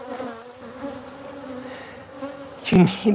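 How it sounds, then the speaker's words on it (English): Honey bees buzzing around an open hive during a honey harvest, a steady close drone with a sharper loud burst near the end, no talk. "these bees are a little rambunctious tonight"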